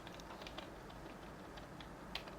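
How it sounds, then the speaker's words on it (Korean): Arrow keys on a computer keyboard are pressed while navigating the BIOS of an ASUS TUF Gaming B760M-PLUS II motherboard, giving a series of faint, scattered clicks at an irregular pace over quiet background hiss. "키보드 방향키를 아래로 눌러"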